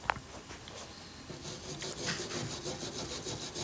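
Someone scrubs the metal upper rim of a DCS stove burner with quick, rhythmic rubbing strokes, a close, soft rasping after a brief knock at the start.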